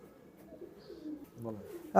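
White golden pigeons give a few soft, low coos at close range in a quiet indoor space, with a brief louder knock at the very end.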